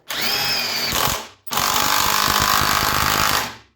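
A Parkside Performance PDSSAP-20 Li D3 cordless driver on speed 4 drives a screw in two loud, close whirring bursts, the first about a second long and the second longer, with a brief pause between them.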